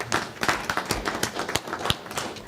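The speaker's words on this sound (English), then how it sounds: "So just a applause for Irene" Scattered, light hand claps from a small board-meeting audience at a water district, individual claps distinct and uneven rather than a full ovation, fairly quiet and close.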